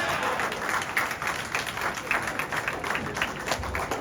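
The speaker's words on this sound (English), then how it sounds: "has the whole building cheering him on" Steady applause and cheering from an arena crowd at a golf event, a sustained wash of clapping with swells and a faint voice underneath.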